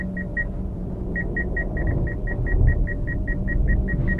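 A manual Suzuki Ignis reversing uphill on half clutch with no throttle. A low, steady engine rumble runs throughout under a rapid train of evenly spaced electronic parking-sensor beeps.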